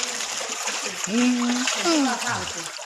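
Thousands of catfish thrash and splash at the water's surface as they are fed, a continuous splattering churn heard under people talking nearby.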